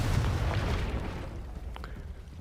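Confringo blasting spell explosion in the Hogwarts Legacy video game, a heavy booming blast that starts loud and rumbles off gradually over two seconds, with a faint crackle toward the end and no talk.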